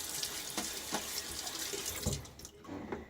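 A bathroom tap runs steadily into a sink as water is splashed onto the face before a wet shave, soft and close, with a few splashes and no voices.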